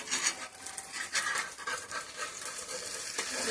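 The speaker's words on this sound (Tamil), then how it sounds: "வந்து முட்டை வெந்துட்டு இருக்குது." An egg omelette fries in a pan, giving a quiet, steady sizzle with faint crackling and light stirring scrapes, close and soft throughout.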